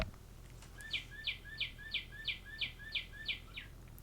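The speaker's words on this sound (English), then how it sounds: "It's my bird clock." A bird clock plays a recorded birdsong of about nine evenly spaced, bright chirps, each a quick rising whistle repeated in a steady rhythm over a quiet room.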